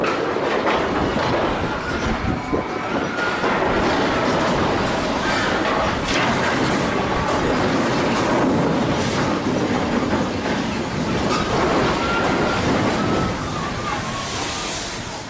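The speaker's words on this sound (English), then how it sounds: "At a railway intersection, a car passes just as a train approaches" A train rolls toward a railway crossing with a steady loud rumble and rhythmic clickety-clack of wheels on the rails, close and continuous throughout.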